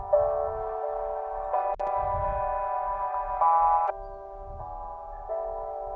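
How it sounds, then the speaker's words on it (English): A filtered piano in a future house arrangement, its chords sounding thin and boxy like a telephone, changing every second or so over a muffled low kick pattern, steady and with no talking. "EQ'd like a telephonic effect."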